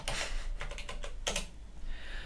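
Fast, irregular clatter of keys on a computer keyboard while a Linux terminal command and password are entered, crisp and close, with a brief burst of rapid strokes in the middle and a steady low hum underneath.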